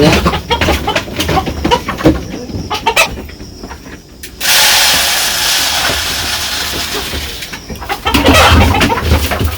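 Village hens cluck on and off at close range amid rustling and clatter, with a stretch of steady broadband noise washing over the middle of the scene.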